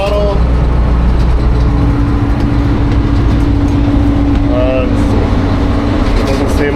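A JR rail tamper's diesel engine drones steadily and loudly at close range under throttle, a constant low rumble. A voice is audible over it.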